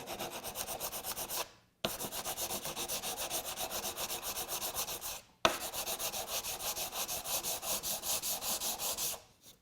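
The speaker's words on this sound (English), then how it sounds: "when we sand this with the sandpaper wrapped on a hardwood block" Steady rhythmic rasping of sandpaper wrapped on a hardwood block against wood, long continuous strokes broken by two brief pauses, close and fairly loud.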